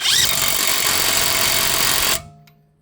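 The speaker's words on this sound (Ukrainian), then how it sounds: "Бачив? Тобі різниця в гайковертах." An impact wrench hammers in one loud, steady, close burst of about two seconds, then stops abruptly and leaves a brief fading ring.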